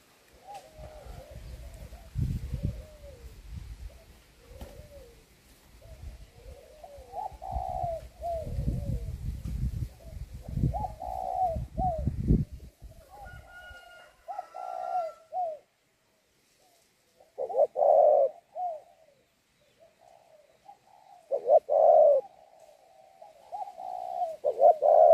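Two pet treepies from Cẩm Sơn commune, Lục Ngạn district, Bắc Giang province call in a series of short, clear, mid-pitched notes, spaced in bursts, over a low rumbling background that fades halfway through.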